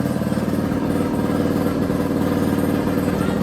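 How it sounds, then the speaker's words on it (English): Loud two-stroke scooter engine running steadily with a rough, clattering mid-range drone while its carburetor is adjusted, continuous and close throughout. "this dickhead's gonna be adjusting the carb on that fucking loud ass two-stroke scooter"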